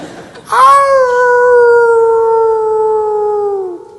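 A voice on stage in a comic show imitates a jackal, one long loud mournful howl that starts sharply and slowly falls away over several seconds.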